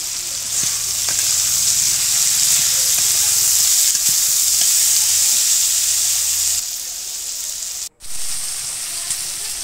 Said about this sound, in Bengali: কাঁচামরিচ পেস্ট কুচি এগুলো দিয়ে কিছুক্ষণ ভেজে নেব।